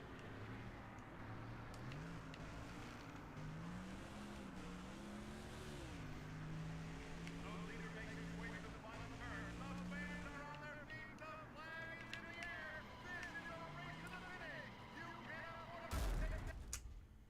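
A NASCAR Thunder 2004 race car engine drones steadily in a racing video game, its pitch sliding down and up through gear changes, with a sudden loud thump near the end.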